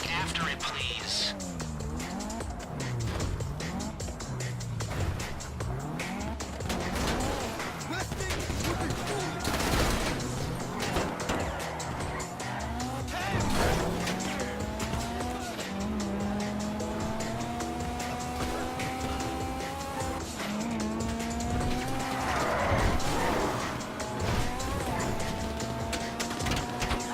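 A getaway car in a GTA Online Fleeca heist is driven hard, its engine revving and shifting through repeated rising whines, with bursts of gunfire, tire noise and crashes, loud and continuous while people talk over it.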